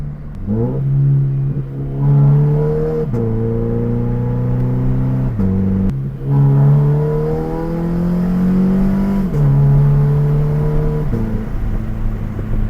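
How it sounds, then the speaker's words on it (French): A Scion FR-S engine revving high in the RPM range with rev-matched downshifts, loud and close, the engine note climbing and dropping in steps across repeated gear changes, with no talk. "Il faut vraiment que vous soyez haut dans les RPM pour que ça puisse faire ce petit, ce rev match."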